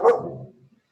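One short, loud dog bark, close by, that quickly fades into a brief trailing tail and then silence.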